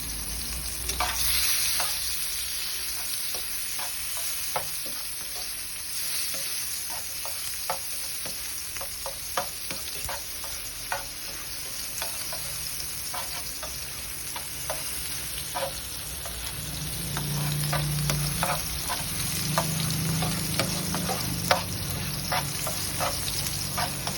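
Food frying and sizzling in a pan during home cooking, with steady crackle and repeated sharp utensil stirring clicks throughout, fairly close and continuous, no talk.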